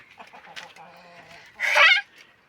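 Several chickens, including a Mardin breed chicken, cluck and squawk in short bursts, ending in one loud, harsh squawk near the close.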